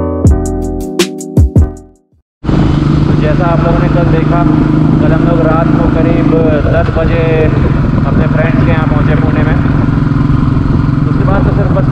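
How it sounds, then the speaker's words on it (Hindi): A Royal Enfield Thunderbird motorcycle being ridden on a road near Hinjawadi, Pune, with a steady loud engine drone and wind rush continuing throughout after a brief quieter start. "बाइक अभी चला रहा हूँ वो है थंडरबर्ड है"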